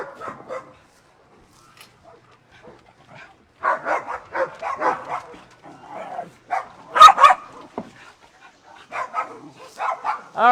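A dog grumbles in low throaty growls, breaking into short barks, yips and snorts in irregular bursts, close by, after a quiet start.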